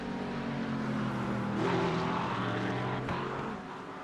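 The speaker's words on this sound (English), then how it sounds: "I heard him hit the throttle on that McLaren" McLaren GT race car in a sim racing game, its engine droning steadily and then swelling into a brief, louder throttle surge before easing off.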